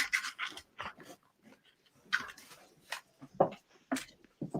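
A Maltipoo dog pants in short, quick bursts of breath close by, with brief pauses between rapid huffs and a faint whimpery edge, no talk over it.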